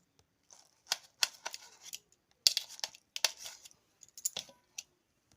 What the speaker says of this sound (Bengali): এবার বেগুনের মোটার অংশটা আমি কেটে বাদ দিয়ে দিচ্ছি